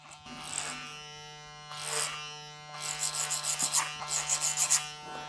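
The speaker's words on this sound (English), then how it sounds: "So I'm just blending this in, clipper over comb" Electric hair clippers cutting hair clipper-over-comb, a close steady buzz with a constant hum under repeated short rasping passes that quicken into a rhythmic series of strokes, with no talking.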